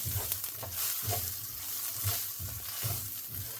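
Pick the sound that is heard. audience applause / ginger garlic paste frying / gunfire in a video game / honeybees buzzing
ginger garlic paste frying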